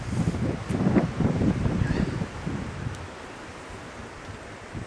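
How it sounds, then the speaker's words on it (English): Strong wind buffets the microphone on a beach, with rumbling surf beneath; gusts are heaviest in the first couple of seconds, then settle into a steadier, softer roar of wind and waves. "Very windy. We're right on the beach"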